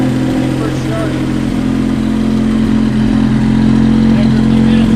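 A 1959 Jaguar XK150 fixed-head coupe's engine idles high just after a cold start, giving a loud, steady, even drone with faint voices underneath.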